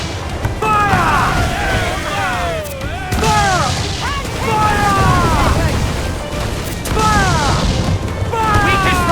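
Ship cannons fire in a naval battle in Assassin's Creed 4 Black Flag, a loud and nearly continuous barrage of booms and crashes with whistling sweeps overhead, while voices shout over the gunfire.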